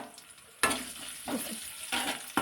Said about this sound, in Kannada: ಇವಾಗ ಒಗ್ಗರಣೆ ಕೊಟ್ಕೊತೀನಿ.